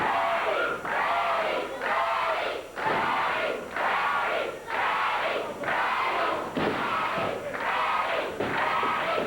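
Memphis wrestling arena crowd chanting a wrestler's name in loud, rhythmic bursts, roughly one per second, sustained throughout with a big, roaring, unified sound.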